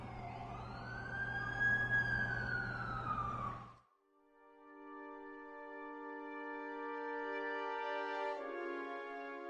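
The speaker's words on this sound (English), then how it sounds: "That's the ambulance I called." A wailing ambulance siren sweeps up and down loudly, cuts off briefly, then a steady multi-tone horn-like siren sounds continuously.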